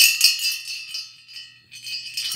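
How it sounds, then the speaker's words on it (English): A small ornament bell rings with light, bright tinkling that fades and returns, fairly close and faint. "A bell ringing."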